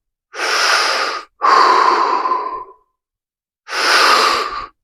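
Three long, loud breaths in a rhythmic breathing exercise, with breaths drawn in and then pushed out through the mouth, each lasting about a second, set apart by short pauses of silence.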